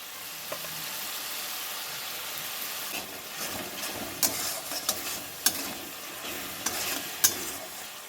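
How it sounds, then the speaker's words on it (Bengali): Spice masala with turmeric and salt stirred and fried in a pan for an omelette curry: a steady low sizzle with occasional sharp scraping clicks of the spoon, fairly quiet and close, no talk. "তো আমি এখানে মশলাটা আরও একটু কষিয়ে নেব।"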